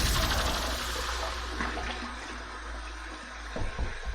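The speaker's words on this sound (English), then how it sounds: "Let's go ahead and wet the face with cold water and get to the shave." Cold water runs and splashes in a bathroom sink as a face is wetted before shaving, a loud rushing gush easing to quieter trickles, then a few brief splashes at the end.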